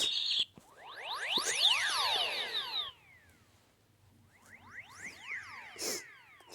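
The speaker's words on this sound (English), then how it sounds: "Bird sounds." A Samsung SGH-X450 phone plays its bird-sounds ringtone, a quick run of synthetic chirps and sweeping tweets. A short pause follows, then a second, fainter burst of chirps.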